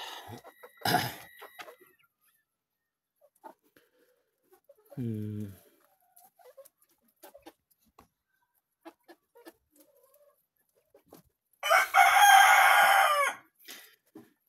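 Chickens on an Azerbaijani farm, outdoors, with a short cluck early on, a lower hen call mid-clip and a loud, long rooster crow near the end, set against quiet yard background.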